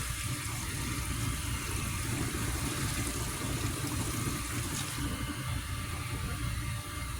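Hot water running steadily from an RV's outside shower during winterizing, a constant hiss of flowing water with a faint pump hum, close and even throughout with no talking.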